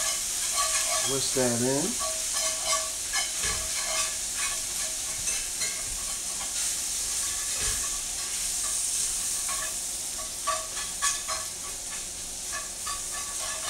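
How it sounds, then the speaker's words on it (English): A whisk works a roux for country sausage gravy in a hot pan, making a continuous loud sizzle with rhythmic scraping strokes, close up. A voice speaks briefly near the start. "I'm just going to whisk"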